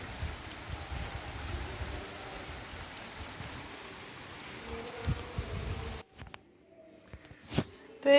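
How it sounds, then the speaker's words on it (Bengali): Continuous rain patters in a steady wash for several seconds, then cuts to quieter room sounds with a few scattered clicks and knocks. "বাইরে একদম ঝমঝমিয়ে বৃষ্টি চলে এসছে"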